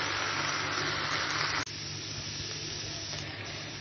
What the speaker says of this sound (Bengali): এই যে ভেন্ডিটা ভালোভাবে সব কিছুর সঙ্গে মেশানো শেষ, এখন এভাবে ভেজে নিব